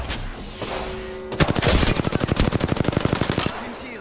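Rapid automatic gunfire in a duo arena match of a video game, a dense burst of close, loud shots in quick rhythm lasting a couple of seconds, preceded by a quieter shot and a brief tone.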